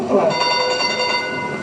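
A train rolls into a station with a ringing bell and sustained tones over a rumbling clatter, fairly close, with voices faintly underneath.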